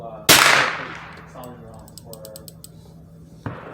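A single sharp gunshot from a Foxtrot AR9 pistol cracks loudly at the start, followed by a long ringing decay, some faint clicks, and a second softer bang near the end.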